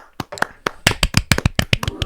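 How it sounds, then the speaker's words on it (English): A few people clap in a podcast studio, close and uneven, producing sharp irregular slaps mixed with voices and laughter over about two seconds. "let's give him a round of applause"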